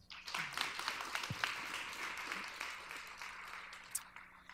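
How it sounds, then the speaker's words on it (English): Audience applause at a Women in Tech meetup following a speaker's introduction, a steady wash of clapping from a room of people lasting several seconds at moderate loudness. "So, round of applause for Lauren, please"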